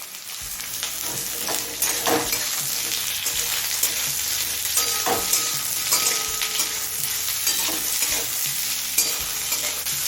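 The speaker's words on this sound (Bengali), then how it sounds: "এবার দিচ্ছি কুচিয়ে নেওয়া দুটো মাঝারি সাইজের পেঁয়াজ" Two chopped medium onions frying in hot oil with bay leaves and cumin, a loud continuous sizzle with steady stirring scrapes of a spatula in the pan, with no talking.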